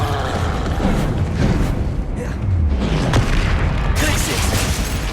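Incendio fire spell cast in Hogwarts Legacy, several bursts of flame and booming impacts mixed with combat effects, with a loud whoosh near the end.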